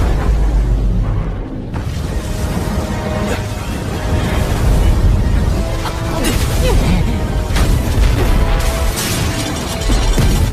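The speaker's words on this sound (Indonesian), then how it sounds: "Ledakan kekuatan formasi ini cukup dahsyat." A loud, sustained rumbling blast with crashing bursts and whooshing layers, continuous and dense for the full length, like a huge magical explosion.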